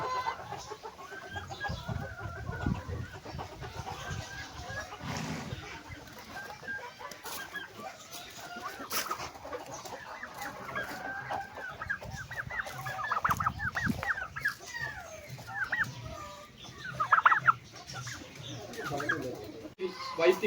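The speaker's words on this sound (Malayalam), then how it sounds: "അപ്പം അടുത്തതാണ് വൈറ്റ് ടർക്കി" Young white turkeys on a farm give soft clucks and peeping calls, mixed with other fowl, moderately near and faint, while people talk intermittently throughout.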